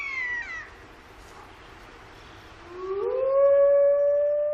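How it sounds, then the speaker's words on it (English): A wolf howls in the Siberian wilderness, a long rising call that swells to a loud sustained tone after a quieter stretch of faint calls. "Howling, the wolf call to arms, gathers the pack and warns other wolves to back off."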